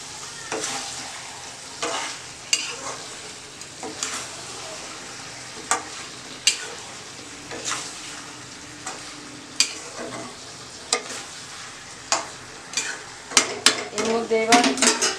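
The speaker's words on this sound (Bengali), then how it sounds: "আলুগুলো মিশিয়ে আবার একটু নেড়ে দিচ্ছি" A ladle stirs potatoes into mutton curry in a pot, with repeated sharp metallic scrapes and knocks against the pot over a faint sizzle, growing busier near the end.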